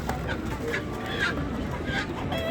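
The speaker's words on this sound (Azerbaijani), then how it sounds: "Bax buradakı quşlarımız" Chickens and other poultry cluck and call at a busy, noisy bird market in Ganja, with the sounds overlapping and continuing throughout.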